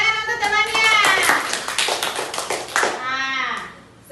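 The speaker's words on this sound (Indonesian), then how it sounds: "tepuk tangan untuk temannya" Classroom clapping by schoolchildren for a classmate during a lesson, a ragged run of hand claps mixed with children's voices that are louder than the claps, tapering off near the end.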